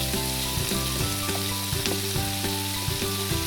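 Lemongrass dropped into onions frying in a pan sizzles loudly and steadily, with repeated scraping stir strokes cutting through the hiss at close range and no voices over it.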